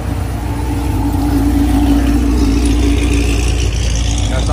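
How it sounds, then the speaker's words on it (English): A car pulling up with its engine revving near a Dodge Charger Hellcat meet in Houston, a loud, sustained mid-pitched engine note with a rising rev near the start, close to the microphone. "Some of Daddy's cars pulling up."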